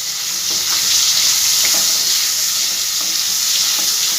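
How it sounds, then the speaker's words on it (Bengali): Potatoes fry with a little salt and turmeric in oil, browning in the pan with a loud, continuous close sizzle and occasional soft spatula stirs, no talking over it. "একটু লাল লাল করে ভেজে নেবো আলুটাকে আগে"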